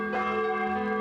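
A bell rings in the Don't Die video game: one sustained, resonant chime with steady ringing harmonics, loud and close, filling the whole moment with no voices.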